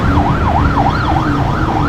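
An ambulance siren wails loud and close in a steady, repeating up-and-down sweep, several cycles in under two seconds, over the rumble of road traffic.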